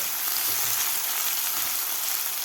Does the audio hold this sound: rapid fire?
no